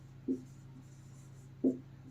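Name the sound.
writing on a board during a maths lesson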